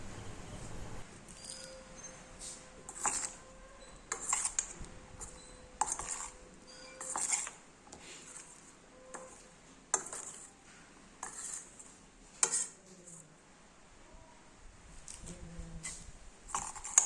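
Potato pieces are tossed with cornflour in a bowl, making soft scrapes and clattering knocks about every second or so. The sounds are close, quiet and unhurried, with no voices.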